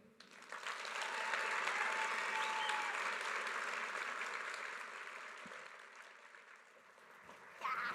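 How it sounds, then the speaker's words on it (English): Audience applause for speaker Angie Woods after her talk: steady, dense clapping from a crowd that swells, holds for several seconds, eases slightly, then surges again at the end. "round of applause for Angie Woods"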